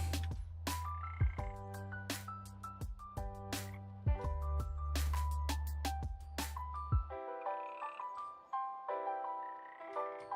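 A frog in a Godot game under development croaks in a run of repeated, tonal, electronic-sounding calls, loud and steady, and the last few seconds turn thinner and higher.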